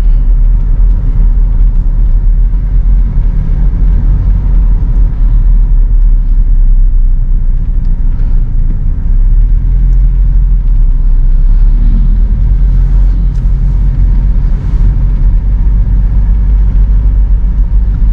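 A 2013 Toyota Innova V with petrol engine and automatic transmission is driven, giving a steady loud low engine and road rumble that continues without a break, with no talk over it.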